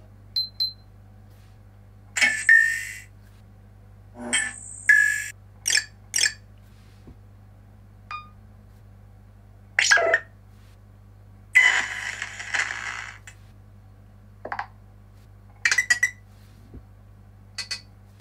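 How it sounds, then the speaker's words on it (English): A set of Nothing Phone (1) notification tones plays one after another, short separate chimes, blips and chirps with gaps of near silence between them, clear and close with no talking. "you've got 10 sounds by nothing, and you can add your own notification sounds if you want"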